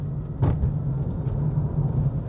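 A 2022 Renault Clio 1.0 TCe with X-Tronic transmission pushed hard, its engine giving a steady low drone with road rumble from inside the car and a brief sharp knock near the start.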